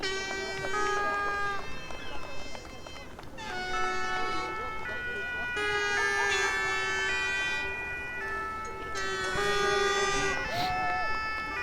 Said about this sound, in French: Et à nouveau, les sirènes des pompiers des Sables d'Olonne.